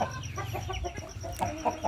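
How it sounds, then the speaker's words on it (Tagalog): Backyard chickens clucking in fine weather, a steady run of soft, close clucks and short calls continuing throughout. "So kontento naman yung ating mga manok."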